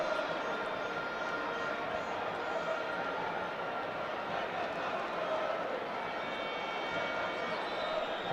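Football crowd at a Zimbabwe versus Namibia match with the score level at 2-2, a steady, broad murmur of distant supporters that holds throughout with no sharp peaks, heard at moderate to low level.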